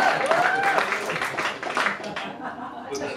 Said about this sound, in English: Let's hear it for David.